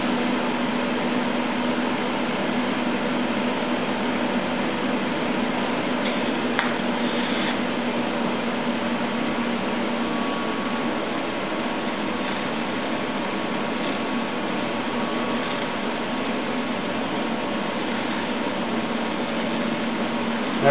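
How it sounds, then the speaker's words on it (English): Steady, loud TIG welding hiss at 200 amps on old gear teeth, a continuous broadband buzz running nearly unbroken for the whole stretch, with a few brief sharper bursts partway through and no talking. "Now we're doing PC TIG, and I've got it set on 200 amps."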